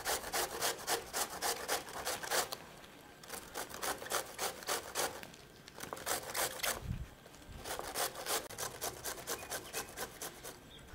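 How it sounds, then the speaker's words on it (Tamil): Cabbage grated on a large grater for cabbage manchurian, a steady run of rapid, rasping scrapes in repeated bursts with short pauses between, close and fairly loud with no talk. "அதனால தான் நம்ம துருவியில் போட்டு துருவி இருக்கிறோம்."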